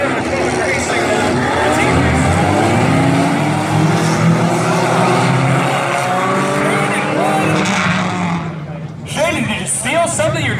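Four-cylinder class race cars roar around Valley Raceway in a heat, engines loud and continuous with tire noise, while a commentator talks over the action and crowd chatter.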